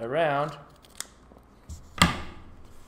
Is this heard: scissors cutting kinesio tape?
yes